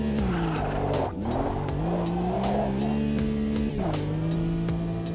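A Porsche GT4 racing around Buenos Aires in a driving game, its engine droning steadily up and down through gear changes with tyre squeal and skids, loud and continuous throughout.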